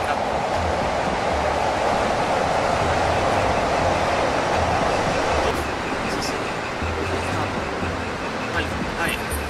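A train rumbles past steadily and loudly for the whole stretch, a continuous roar with rhythmic low thumps from the wheels, heard at a station in Shibuya, Tokyo.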